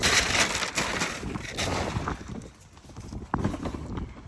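Donkeys' hooves clip-clop nearby in a barn setting, in irregular steps with some crunching underfoot.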